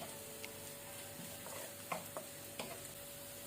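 Chopped ginger and garlic pieces fry in a pan for chole masala, a soft continuous sizzle broken by a few sharp spoon scrapes and taps against the metal.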